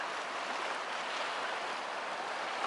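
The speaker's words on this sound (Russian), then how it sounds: "Ребята, мы дошли до речки." Continuous rushing water of the Psezuapse river in Lazarevskoye, full and flowing nearby, a steady broadband wash, with no voices.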